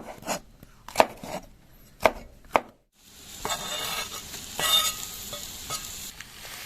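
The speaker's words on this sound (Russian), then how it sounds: "Нарежем болгарский перец. И нарежем соломкой." A knife chops bell pepper into strips on a board with a few sharp, separate thuds about a second apart, then a short silence and a softer, busier sizzle of cooking in a kazan.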